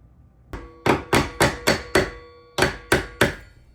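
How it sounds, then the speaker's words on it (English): A hammer strikes locking vise grips clamped on the bottom cap of a door hinge pin, landing about eight sharp metallic blows in a steady rhythm with a short pause partway through, close and loud with no talking. "Once locked, we can use a hammer to try to remove."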